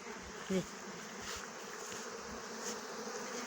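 Honey bees fly around a hive, their faint buzzing hum continuous and soft throughout, with a short low knock near the start and no speech.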